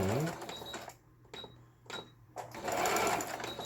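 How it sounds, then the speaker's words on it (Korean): A Singer household sewing machine stitches zigzag and quilting patterns, its needle mechanism whirring in short bursts separated by brief pauses, close and clear. "3번 지그재 바느질 정상 박음질 되고 4번, 5번, 6번 누빔 바느질"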